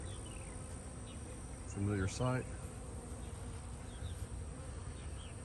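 Honeybees drone steadily around a hive at an apiary, a faint continuous buzz filling the background while a person speaks briefly over it.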